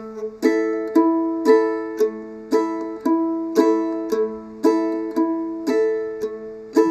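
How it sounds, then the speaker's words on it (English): A mandolin strums a steady boom-chuck rhythm, alternating a low bass note with crisp chopped chords, clear and close. "it's often referred to as a boom chuck pattern"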